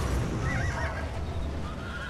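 Several horses whinny and neigh in Red Dead Redemption, with steady hoof clip-clop underneath; the calls sound close and fairly loud against a busy game background.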